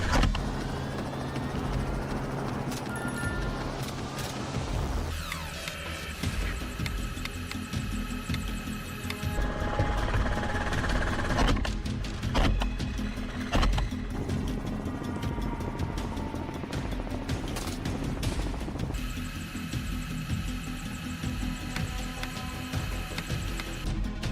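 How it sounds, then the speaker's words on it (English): A helicopter drones steadily throughout, a loud continuous rotor and engine rumble with shifting tones, no voices. "As the helicopter flies over fields and forest edges,"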